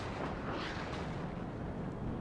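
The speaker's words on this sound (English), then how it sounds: "Look at all those explosions." Artillery explosions in the video game WARNO rumble in a dense, continuous wash of distant blasts, loud and unbroken for a couple of seconds with no speech.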